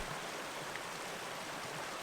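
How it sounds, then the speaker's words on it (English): Steady broadband rush of a big waterfall on a Dartmoor river, heard close and loud as a continuous, even roar with no pauses and no voices. "Eventually, we came to the waterfall, and it was definitely a big relief."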